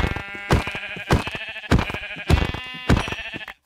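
Sheep in the video game Minecraft bleat five times in a loud, steady rhythm. Each bleat is short and close, with a brief gap before the next.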